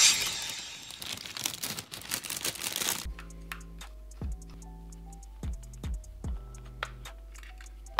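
Cheap hair clipper from Lipsy Barbershop being taken apart by hand, heard as close rustling and handling noise followed by a series of distinct plastic clicks and snaps as the casing comes apart, with no talk.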